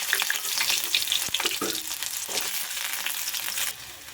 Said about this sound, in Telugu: ఆయిల్ వేడెక్కాక కట్ చేసిన ఆనియన్స్ ఇందులో వేసుకోవాలి.